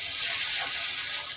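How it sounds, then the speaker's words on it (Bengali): Dried fish and turmeric fry in a hot pan, giving a steady, close hiss of sizzling oil throughout the brief moment with no talking. "লালচে লালচে ভাজা হয়ে গেছে, এখন হলুদটা দিয়ে দিচ্ছি"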